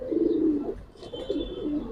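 Giribaz pigeons coo in low, soft, repeated phrases, close by, with a faint chirp above and no voices.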